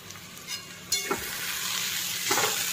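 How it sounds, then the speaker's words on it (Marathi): Wheat vadas frying in a pan as they are stirred and turned: a bright, steady sizzle rises after a brief quieter start, with a couple of soft scraping stirs, close and with no talking. "त्यानंतर झाकण काढून वडे पुन्हा चाळून द्यायचे आहेत"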